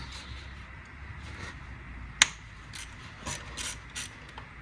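A ratchet loosening size 10 hex nuts on the intake throttle body of a Mazda 6 2.2 Skyactiv diesel, giving short clicking bursts with one sharp metallic snap, close and otherwise quiet.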